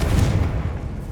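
A Confringo blasting spell explodes in the Hogwarts Legacy video game, a loud booming blast with a heavy low rumble that decays over about a second.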